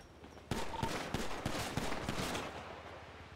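Rapid gunfire in a video game arena fight, a sudden burst of about nine or ten close shots in a quick irregular rhythm, loud and alone with no talk.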